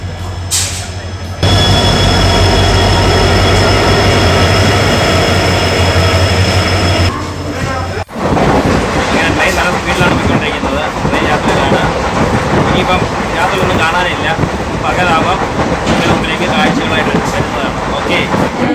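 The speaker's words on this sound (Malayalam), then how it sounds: "നമ്മൾ ട്രെയിൻ എത്തിയിരിക്കുകയാണ്" A late-running long-distance passenger train pulls into a station, a loud steady rumble of rolling coaches and wheels after a brief quieter stretch, with a sharp break partway through.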